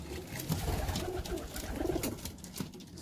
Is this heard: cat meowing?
no